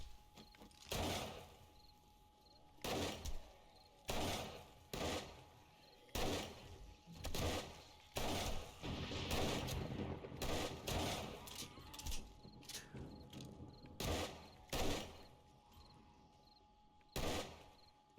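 Repeated bursts of gunfire in the survival game 7 Days to Die during a horde-night base defense, sharp shots in clusters with short pauses, loud and close throughout, no talk.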